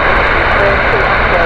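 A brand new Virgin Airbus A330neo arrives at Heathrow, its jet engines a loud, steady broadband roar filling the whole moment without break.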